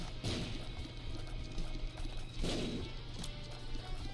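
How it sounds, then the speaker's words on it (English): Two sharp explosions burst out in The Binding of Isaac: Afterbirth+, spaced about two seconds apart, each a crisp crack with a short rumbling tail over a quiet, humming game soundtrack. "More explosions, thank you."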